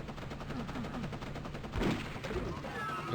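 Rapid gunfire rattles in fairly faint, repeated bursts during a Doom map, Map05 Fiendish City, played on Ultra-Violence difficulty.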